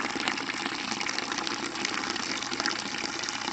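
Water gushes hard and steady from a pumped borehole pipe in the Brazilian sertão, a loud continuous close roar of rushing water with no pause.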